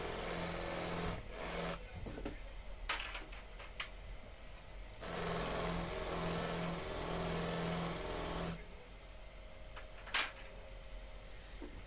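A rag wheel spins on a power tool to polish with polishing paste at low speed, giving a steady whirring hum with short louder bursts as the piece is lightly touched to the wheel.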